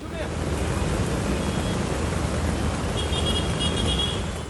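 Steady, loud rush of floodwater flowing along a road in Surat after heavy rain, a broad continuous roar close by, with no clear voices, only faint traffic-like noise mixed in.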